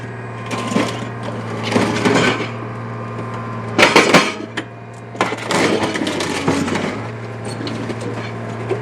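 Heavy scrapping machine wrenching the engine out of a Hyundai Getz, with loud bursts of crunching, grinding metal in several separate surges over a steady low mechanical hum.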